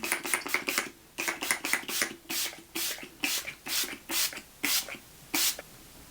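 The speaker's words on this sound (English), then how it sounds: "I'm gonna set everything with my Urban Decay All Nighter Makeup Setting Spray. And I'm just gonna go ahead and mist that on" A rapid series of short, bright hissing bursts of Urban Decay All Nighter makeup setting spray, evenly paced, fairly close, with no talking.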